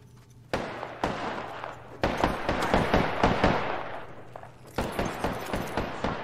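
Rapid gunfire in the battle-royale game Apex Legends, with loud, sharp shots in quick bursts and a brief lull in between, sounding close and dense like an ongoing firefight.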